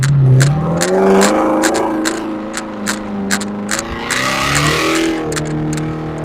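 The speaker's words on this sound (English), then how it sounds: "Yup, both tires are spinning." A car with a 3.09 limited-slip differential, just refilled with fresh fluid, revs hard in manual mode with both driven tires spinning: a loud, close engine note climbing and wavering in pitch, broken by sharp repeated ticks and tire noise.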